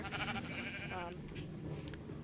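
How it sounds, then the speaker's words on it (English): Minecraft sheep bleat a few times in a Java and Bedrock wool farm, faint wavering cries heard softly in the background of a quiet game scene. "Get some sheep in here, get at least 2."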